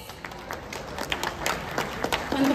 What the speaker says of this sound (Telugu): can we have a huge round of applause please